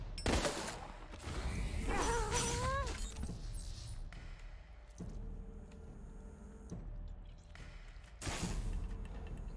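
Shotgun blasts ring out at a turret in the video game Wasteland 3, several loud booming shots with clattering gunfire and whooshing effects spread across the span, layered with game sound and music.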